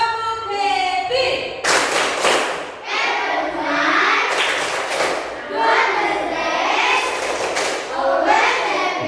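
Children chant and clap together in the Indonesian 'tepuk happy' clapping routine, rhythmic group claps ringing out between loud shouted chant lines, close and lively throughout.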